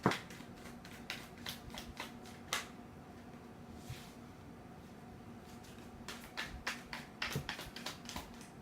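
Tarot cards being shuffled up close, with quick riffling bursts and soft taps in a loose rhythm, pausing in the middle and then returning in a denser flurry, faint and with no talk.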